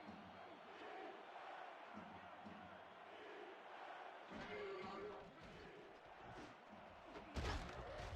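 A stadium crowd in the football video game NFL 2K5 roars and swells at a distant, moderate level, rising toward a louder burst near the end, with scattered thuds and a commentator's voice beneath.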